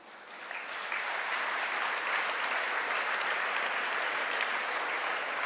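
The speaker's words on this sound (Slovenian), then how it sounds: "Prosim, dajte en lep aplavz za Ano Čepar iz MČM Young." An audience at a business conference claps loudly and steadily, a dense, even wash of applause that swells in within the first second and holds without any voices.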